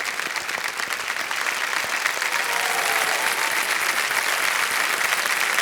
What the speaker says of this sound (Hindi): तालियां बज जाए उनके लिए, अनुश्री जी के लिए।